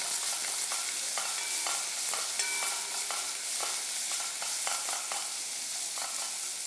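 Finely minced chili stuffing sizzles steadily in a pan while a utensil stirs and scrapes it, giving repeated clinks and scrapes over the continuous frying hiss.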